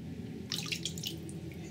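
Water dripping and splashing off a phone in an Incipio Atlas waterproof case as it is lifted out of water, a brief cluster of close, light drips over a steady low hum.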